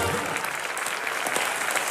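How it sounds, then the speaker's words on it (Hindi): A studio audience at a Hindi comedy talk show applauds for the actor Akshay Kumar, with steady, dense clapping filling the whole stretch at a fairly loud level. "एक बार जोरदार तालियां अक्षय जी के लिए।"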